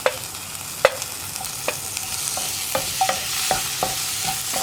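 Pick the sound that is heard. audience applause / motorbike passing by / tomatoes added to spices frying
tomatoes added to spices frying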